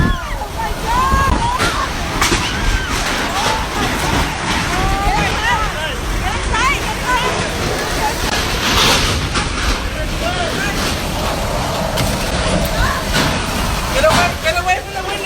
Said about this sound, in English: a wind 10 times stronger than usual blew away everything in its path